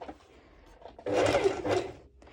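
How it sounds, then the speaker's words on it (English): A sewing machine runs a tiny straight stitch along the edge of bikini bottoms, heard as a single close, steady whirring burst of about one second between quiet pauses. "So I'm doing this little straight stitch."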